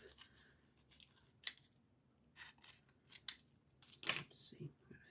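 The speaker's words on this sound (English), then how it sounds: "And then you can just cut all of this bottom piece off." Scissors snip off the excess bottom piece of a decoupage napkin glued onto wood Easter decor, a few quiet crisp cuts and paper rustles with faint speech around them.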